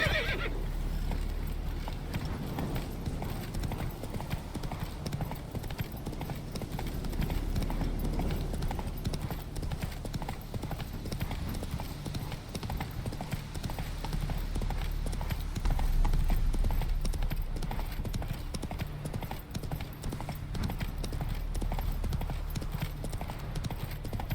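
Hooves clip-clop in a steady galloping rhythm as a horse runs in The Witcher 3: Wild Hunt, close and continuous, with occasional whinnies over a low ambient rumble.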